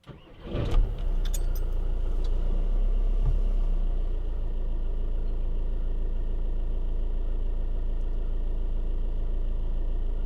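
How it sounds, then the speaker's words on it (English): Keys jangle as a Euro 6 vehicle's engine cranks and catches, then settles into a steady, loud idle that runs unbroken for several seconds. "Start the engine again."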